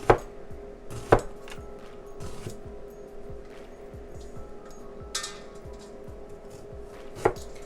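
A knife slices onions for French onion soup on a cutting board, a quick steady run of soft chopping taps with a few sharper clinks mixed in.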